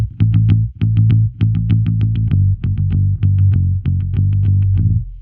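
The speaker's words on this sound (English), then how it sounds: "If the song calls for a picky bass sound," Bass guitar played with a pick, a steady run of sharply attacked, punchy low notes with a bright edge on each pluck, close and loud, with no voices.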